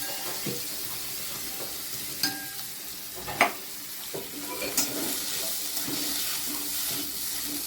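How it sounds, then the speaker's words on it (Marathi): Cashews and almonds fry in a little ghee while being stirred, giving a soft continuous sizzle close by with occasional scraping clicks of a spoon against the pan. "थोडं तूप टाकायचं आणि त्याच्यात ना काजू बदाम"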